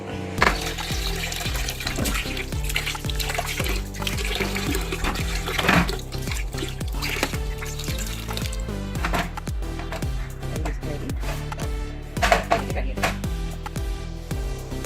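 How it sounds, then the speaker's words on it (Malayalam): Seer fish (neymeen) being washed and cut in water for an Alappuzha-style curry, a continuous run of splashing and running water with scattered clinks and handling knocks, close and fairly loud throughout. "അപ്പം നെമ്മീൻ കഴുകി കട്ട് ചെയ്തെടുക്കാം."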